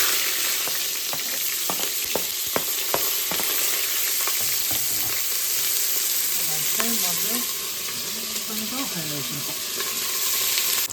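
Onion, coriander and green chilli frying in oil inside a pressure cooker, a loud, steady close sizzle with irregular stirring clicks and scrapes, and a faint murmuring voice partway through.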